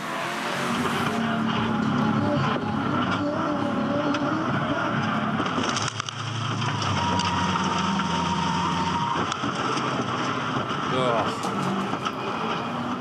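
V8 Ute race cars at the Gold Coast circuit roar past and one slams into the fence, with engine drone, tyre skids and a brief impact, all under excited race commentary.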